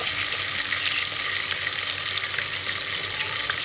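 Tomatoes go into browned chicken in a hot pot for black pepper biryani, giving a steady, loud, bright sizzle and crackle of frying that runs continuously without talk.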